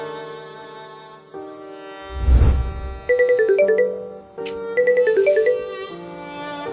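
A phone ringtone chimes in two melodic bursts of rising and falling notes over a sustained background tone, loud and close, with a brief low thump before the first ring; nobody speaks.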